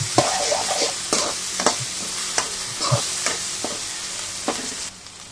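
Ginger, garlic and onion paste stirred in a frying pan for a country chicken curry, with a steady sizzle and a series of distinct scraping strokes of the spatula, close and fairly loud, with no talking.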